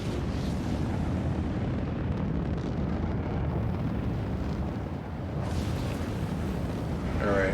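An Anvil Hurricane spaceship lifting off in Star Citizen, a loud, steady engine roar with deep rumble that holds throughout and swells slightly at the end, no voices over it.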